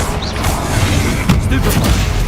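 In Hogwarts Legacy, a Confringo fire-blast spell goes off as dull booming bursts over a constant rumbling game soundscape, loud and close, with a voice speaking briefly.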